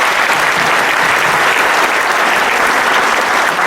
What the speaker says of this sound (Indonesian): beri tepuk tangan buat tim Anda.